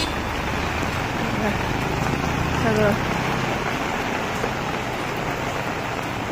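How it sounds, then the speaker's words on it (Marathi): Steady, dense rain hisses and patters continuously on a flooded Pune road with overflowing drains, with a brief spoken word partway through. "इकडे पण भरपूर पाऊस आहे इकडे"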